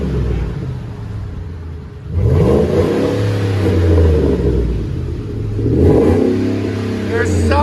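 A car fitted with a Flowmaster HV2 muffler revs in two loud, close bursts, the deep exhaust note swelling and settling between them over a steady idle rumble.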